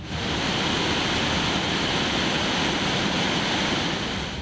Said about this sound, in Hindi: नीचे हाहाकार मचाती लहरें और उसकी थर्राने वाली आवाज